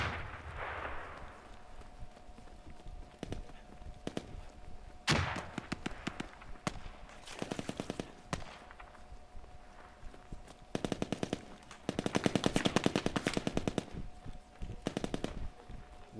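Gunfire in the military shooter game Squad: repeated automatic bursts and single shots crack out in the distance, with one louder nearby blast and longer rattling volleys late on, over a steady low hum.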